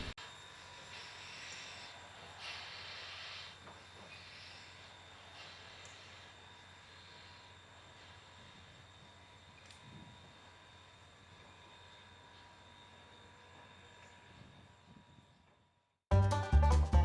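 Southern Railway 154, a steam train running as the Christmas Lantern Express, passes with a distant low rumble and rolling rail noise, faint and steady, fading before an abrupt loud burst at the end.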